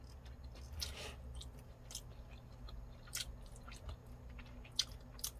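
Someone chewing a meal of beef bulgogi and tofu salad with sesame doenjang dressing, with soft, close, intermittent chewing and a few crisp bites over a steady low background.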